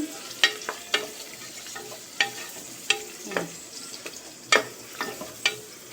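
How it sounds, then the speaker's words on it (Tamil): Soaked peas are sautéed in a pan for veg biryani, a soft steady sizzle broken by sharp spoon scrapes and clinks at irregular intervals, close and alone. "இது வந்து கொஞ்சம் நல்லா வதக்கிக்கிறோம்"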